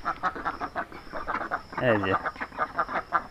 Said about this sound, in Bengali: এখানে হাঁস পোষা আসলে কঠিন, তারপরেও আপনার এখানে 3টে হাঁস আছে দেখেন